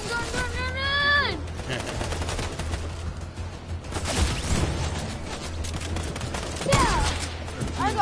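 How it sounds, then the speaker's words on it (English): Video game gunfire, rapid automatic bursts and scattered shots rattling throughout, fairly loud, mixed with a voice speaking and game sound effects. "Gun!"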